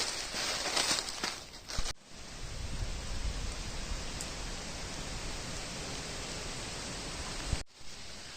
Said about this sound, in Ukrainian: Таки почав знову падати дощик.